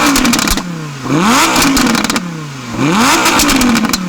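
Audi R8 with a 5.2 litre V10 revving loudly and close, two long throttle blips whose pitch sweeps up and back down, with a rasping exhaust note and brief pops between rises.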